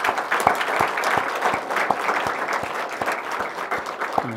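A church congregation at a Korean revival retreat service claps in unison, a loud, fairly close, steady rhythmic beat of many hands that keeps a regular pulse from start to finish.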